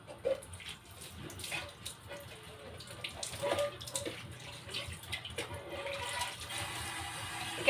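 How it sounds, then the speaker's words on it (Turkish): Running tap water splashes steadily into a sink as a large baking tray is rinsed under the faucet, with occasional light clatters of the metal tray and a faint voice in the background. "Şöyle yıkayayım da kaldırayım."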